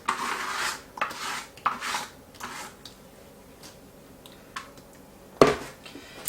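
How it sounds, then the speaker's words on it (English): Christmas trash candy mix spread out on parchment paper, heard as a run of close scraping and rustling strokes in short bursts, with one sharper knock near the end and no talk. "all I'm going to do is pour it out onto the parchment paper. Spread it out."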